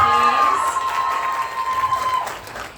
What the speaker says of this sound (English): One more round of applause for Callista